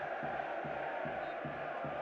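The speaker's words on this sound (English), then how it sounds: "they're pumping up the crowd here at Estadio Morazan in San Pedro Sula" A stadium crowd at Estadio Morazan in San Pedro Sula roars steadily during a Panama vs Honduras Under-20 match, a dense, continuous wash of voices with rhythmic pulses, as if chanting, heard from a distance with no clear single voice.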